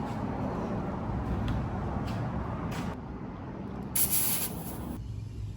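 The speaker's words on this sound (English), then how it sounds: "need to lube up the chain before I go out" Lube is sprayed onto a motorcycle chain at a Tampa, Florida rental shop: one short, crisp hiss of about a second, heard near the end over a steady low background rumble.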